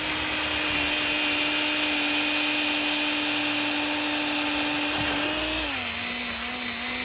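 A LIDL power tool cuts a slot into 30 mm thick wood with a steady, high-pitched whining hum throughout, its pitch dropping slightly near the end as it loads up, close and without talking.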